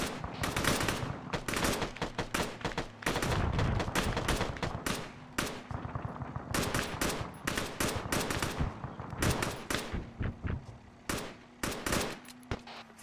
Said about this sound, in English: That's you firing at that fuel truck.